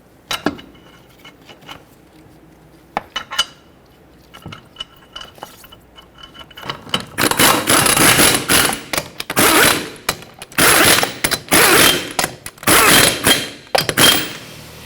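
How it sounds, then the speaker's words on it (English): Lug nuts are tightened on the front wheel of a 2006-2010 Hyundai Sonata: sparse light metallic clicks at first, then repeated loud ratcheting bursts in quick succession. "Start on all 5 of your lug nuts."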